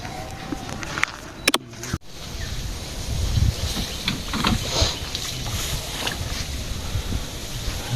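A boat moves across open water with a low rumbling wash and steady wind buffeting the microphone, plus a few sharp knocks early on.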